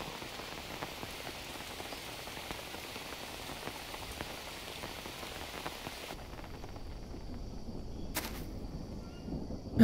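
Steady rain pours down in the jungle survival game Green Hell, a dense even hiss that fills the scene for most of its length and then thins out abruptly near the end.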